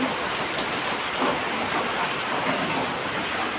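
Steady afternoon rain falls in a continuous, even hiss of drops on surfaces, fairly loud and unbroken throughout with no voices.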